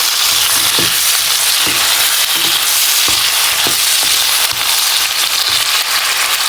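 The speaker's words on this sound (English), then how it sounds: "Then we will put the tomatoes as well. And then give it a good mix." Tomatoes sizzle loudly in hot oil in a pan, a dense crackling hiss with repeated thumps and scrapes as they are stirred.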